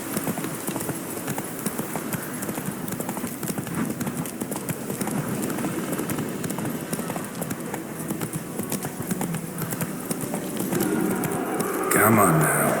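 Hooves of the horse Roach clip-clop steadily in The Witcher 3, a continuous rhythmic trotting over ground with ambient game background, growing louder and busier toward the end; a voice speaks intermittently over it.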